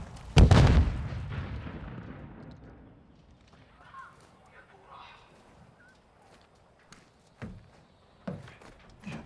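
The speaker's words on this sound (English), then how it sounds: "Stun grenade out!" A stun grenade bursts in a hardcore-mode shooter match, opening with a loud, close boom that trails off, followed by quieter scattered clatter and thuds.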